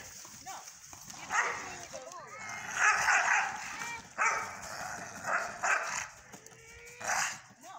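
A dog barks several times outdoors during a family outing in the snow, the short barks coming at irregular intervals under and between people talking nearby.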